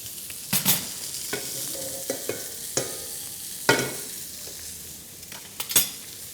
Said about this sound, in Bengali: আমরা অয়েল পোর করে দিব একটু